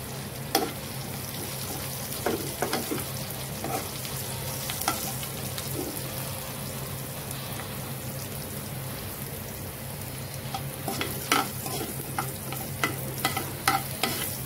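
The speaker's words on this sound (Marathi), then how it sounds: "जिरा गरम झाला तर लसूण टाकून घ्यायचं" Garlic sizzles and crackles in hot cumin in a frying pan, a steady, close spitting hiss with occasional sharper pops and no talking.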